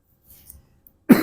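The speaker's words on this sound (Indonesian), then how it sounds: "Itu batuk namanya." A single short cough bursts out near the end, close and fairly loud, after faint low murmurs in an otherwise quiet room.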